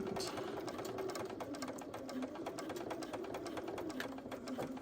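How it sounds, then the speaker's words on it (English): A sewing machine stitches a line on a sliding pencil case with a short back tack, its needle tapping in a fast, even rhythm at moderate volume throughout. "I've started up my line. I am going, we do a little bit of back tack to secure it, and then we go down all the way down to the end."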